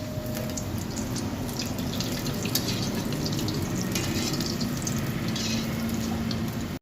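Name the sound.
balls frying in oil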